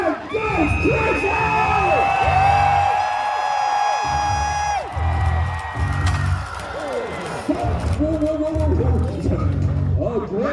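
A crowd roars and cheers at a Renaissance faire joust, loud and sustained, with whoops and yells under a horn-like tone as knights ride out with lances; a voice calls over the din.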